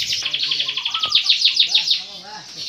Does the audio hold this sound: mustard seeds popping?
no